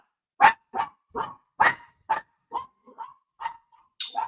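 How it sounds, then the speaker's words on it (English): A dog barking in a run of about nine short, sharp barks spaced roughly evenly, fairly close and moderately loud, the last few softer and more yelping, with no talking. "What's wrong with your dog, man?"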